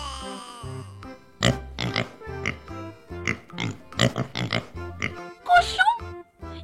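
A storybook pig grunts and oinks several times in short, snorting bursts over light music, a sound effect in a French children's tale.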